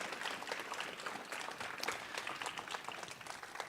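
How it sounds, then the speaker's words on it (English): Audience at a community school final project presentation giving a round of applause, a steady dense clapping that continues throughout at moderate volume. "let's give them a round of applause as well."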